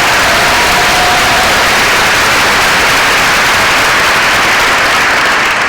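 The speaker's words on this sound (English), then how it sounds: "Can I get a round of applause for everyone" A 2016 convocation audience applauds in a dense, continuous roar of clapping, loud and unbroken for several seconds, with no voices standing out.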